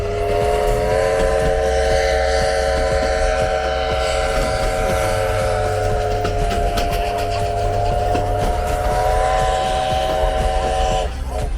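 A Glenbrook Vintage Railway Christmas train running in New Zealand, with a loud, steady rumble and a sustained tonal drone held throughout as it approaches the platform, close and continuous with no speech.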